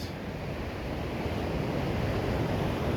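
Sea waves washing onto the beach at Selfport, a steady broadband surf roar with wind noise on the microphone, continuous and fairly close throughout with no talking.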